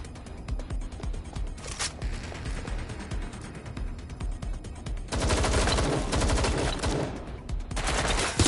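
Incoming gunfire in Watch Dogs Legion rattles steadily at a moderate level, then turns into a louder, denser barrage of rapid shots during the second half.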